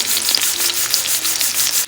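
Round slices of sweet potato frying in a pan of oil, giving a steady, dense sizzle with faint crackles throughout, up close and with no voices.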